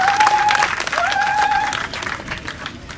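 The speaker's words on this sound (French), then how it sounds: "Ça s'applaudit ça." An audience applauds with dense, steady clapping, loud and close, that fades slightly toward the end while a voice carries a sustained tone over it, at a 2023 event.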